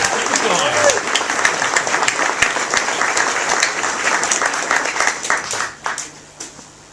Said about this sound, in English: let's have an applause